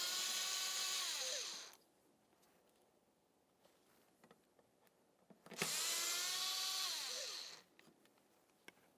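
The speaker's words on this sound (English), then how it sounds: "We'll be using a T20 Torx driver to remove our two mounting bolts." Cordless power driver with a T20 Torx bit spins out the two mounting bolts of the mass airflow sensor on a 2008-2017 Mitsubishi Lancer 2.4L L4, two close, loud whirring bursts of about two seconds each, quiet clicks between them.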